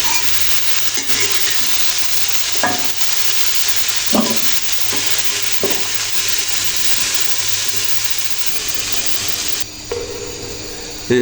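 Mixed vegetables with broccoli frying in oil in a pan, an even close sizzle broken by a few spatula knocks and stirring scrapes, with no talk.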